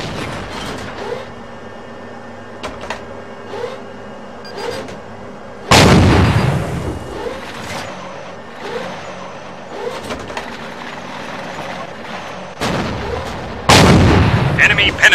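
Tank shell hits in the video game Ground War Tanks: two heavy booming impacts land several seconds apart over a constant rumbling engine drone, with lighter clanking mechanical sounds in between.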